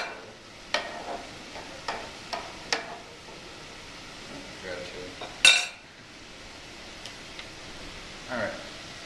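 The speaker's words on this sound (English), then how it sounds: "Stir it." Chilies and chicken being stirred in a frying pan: a soft sizzle underlies several sharp utensil clinks and scrapes against the pan, with one louder clatter partway through.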